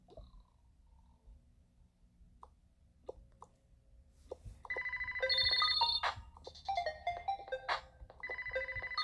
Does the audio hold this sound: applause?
no